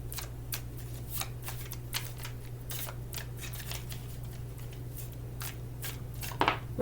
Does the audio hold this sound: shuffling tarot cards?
yes